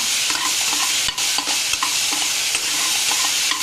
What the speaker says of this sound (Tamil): கோவக்காய் வதங்கினதுமே நம்ம கட் பண்ணி வச்சுருக்கோம் தக்காளி அதையும் சேர்த்து வதக்கணும் தக்காளி நல்லா வதக்கிடுங்க